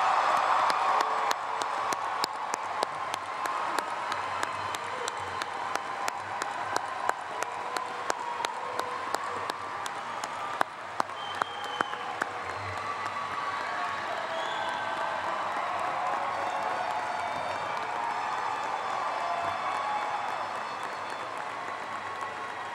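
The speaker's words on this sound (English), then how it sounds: "Let us applaud all of the new graduates of Augusta State University." Large audience applause with scattered cheers and whoops for new graduates at a 2011 Augusta State University graduation ceremony, sustained clapping filling a big space, distinct sharp claps prominent early on before settling into a steady roar.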